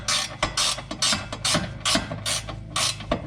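A ratchet wrench turns a nut on the front sway bar link of a Subaru Outback, giving repeated bursts of rapid metallic clicking in a quick back-and-forth rhythm, close and clear.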